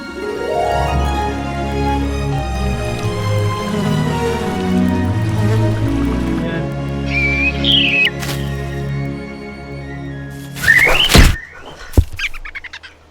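The Big Buck Bunny soundtrack plays quietly through a Raspberry Pi, with layered orchestral music, then a few birdlike chirps and thumping cartoon effects near the end, and no talking.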